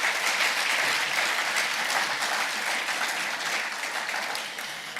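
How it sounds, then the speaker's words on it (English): Applause from a large audience at a corporate capital markets event, a dense, sustained wash of clapping that holds steady and slowly tapers toward the end. "Another round of applause, please"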